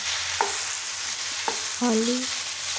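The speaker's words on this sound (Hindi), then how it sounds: "ताकि इसका कच्चापन दूर हो जाए और ये थोड़े भुन जाएँ मटर" Green peas fry in a pan to lose their rawness, with a faint sizzle under two sharp spoon taps against the pan and a brief scraping stir, all close and fairly quiet.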